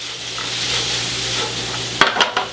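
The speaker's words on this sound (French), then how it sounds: "On va faire cuire les oignons avec une légère coloration." Onions fry in oil for a lamb curry, a steady sizzle with a low hum beneath, then near the end a few sharp scraping strokes as a spatula stirs them.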